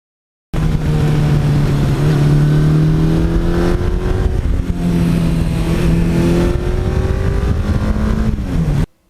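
A 1982 Suzuki GS1100E motorcycle engine revs loudly and close, rising and falling through several throttle blips before cutting off abruptly at the end.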